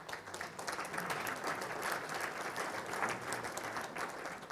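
An audience at a mayor's State of the City address breaks into sustained applause, a full, even roar of many hands clapping that holds steady for several seconds.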